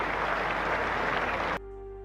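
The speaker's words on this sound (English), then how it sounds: "The crowd give him a good applause." Cricket crowd applauding a batsman's dismissal at a Test match, a broad steady wash of distant stadium clapping that cuts off abruptly near the end, leaving a quiet tonal hum.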